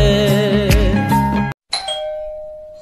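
An electronic doorbell chimes with ringing tonal notes for about a second and a half, cuts off abruptly, then a softer sustained tone follows, close and loud with no talk.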